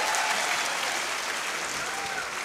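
Dense, steady applause fills a hall as an audience claps together at a student guidance gathering held for a birthday celebration, loud and sustained with no break.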